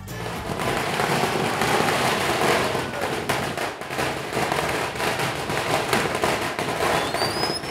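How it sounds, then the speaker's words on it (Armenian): Firecrackers burst on a busy Indian market street as a disco-dance procession arrives, making a dense, continuous crackle of rapid pops and bangs that fills the whole stretch with no break. "Ու հանկարծ պայթյունի ձայներ։"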